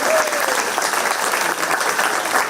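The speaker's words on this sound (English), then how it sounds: "Let's give a big round of applause for the Reserve Grand Champion there." Steady, dense audience applause at a 4-H pie and muffin auction at the Shelby County Fair, a continuous crowd clapping close by for the reserve grand champion.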